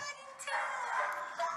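A short, faint dog vocalization, a couple of soft barks or yips with a whiny edge, brief and somewhat distant.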